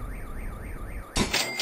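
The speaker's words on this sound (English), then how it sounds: "the only alarm we set off was a car alarm" A car alarm in the video game Henry Stickmin, a wailing siren sweeping up and down in a steady rhythm, then cut off by a sudden loud crash-like burst near the end.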